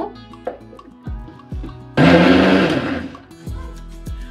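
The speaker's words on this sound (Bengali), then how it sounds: "এখন এটাকে ব্লেন্ড করে নেব।" An electric blender whirs loudly for about a second and a half, blending milk and eggs for a Bengali egg shahi barfi sweet, with softer kitchen knocks and clatter before and after.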